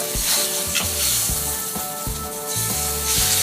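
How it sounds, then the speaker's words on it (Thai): Marinated fish sizzles loudly in an ordinary, slightly sticking pan, with a steady crackling hiss and occasional scraping or stirring knocks. "นี่คือปลาที่เราหมักเอาไว้ลงไปเลย"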